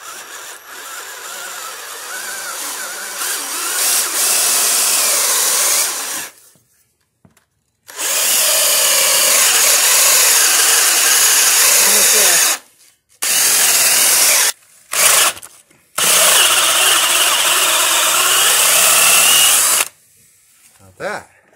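A step drill bit bores holes through the thin sheet metal of an integrated LED light fixture, giving several loud, close whirring bursts, each a few seconds long, separated by brief silences.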